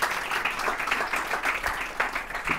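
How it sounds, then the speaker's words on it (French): Audience applause at a startup pitch event, a steady patter of many hands clapping continuously and fairly close throughout. "Vous pouvez les applaudir, hein"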